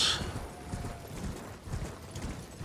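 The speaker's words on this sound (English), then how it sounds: "Jump on our horse." Spectral steed hooves galloping in the Elden Ring video game, a quiet, rapid run of muffled hoofbeats over about three seconds.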